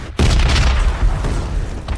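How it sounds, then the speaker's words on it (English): Huge explosion in the PUBG battle royale game, a sudden deep boom that hits hard after a short quiet moment, then rolls on as a loud rumbling roar that fades slowly. "the explosion is really enormous"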